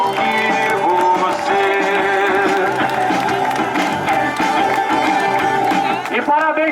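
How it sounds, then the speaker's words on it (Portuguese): Family and guests applaud a newly engaged couple at a marriage proposal, sustained clapping and cheering blended with music and voices in a busy room. "uma salva de palmas para o nosso casal"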